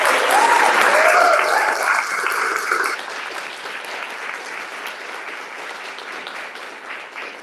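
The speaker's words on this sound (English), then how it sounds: "can we just give a big round of applause to the parents and academics?" Loud applause from an audience at a women's swim event in Roanoke, dense clapping for about three seconds, then thinning into scattered, softer claps that carry on to the end.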